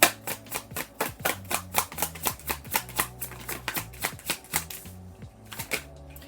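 Tarot cards being riffled and shuffled in a quick, steady run of crisp flutters, about three bursts per second, close and clear with no talking, stopping near the end.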